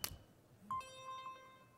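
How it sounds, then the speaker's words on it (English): A phone gives a short electronic beep as a Clipper transit card is swiped against it, a faint tone after a brief tap, alone in a quiet room. "it beeps."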